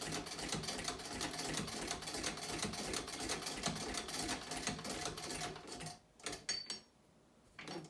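A vintage Singer sewing machine stitches through thick layers of leather and upholstery leather with a continuous close, rapid mechanical clatter that stops near the end, leaving a few brief knocks.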